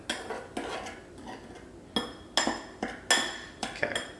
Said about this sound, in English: Then we're going to stir this together